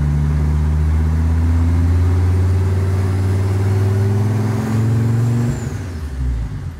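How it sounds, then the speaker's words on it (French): A Peugeot 205 proto's engine idles steadily at 700 rpm, a loud, close, low rumble that holds even before dropping slightly near the end. "Donc là je suis à 700 tours minute."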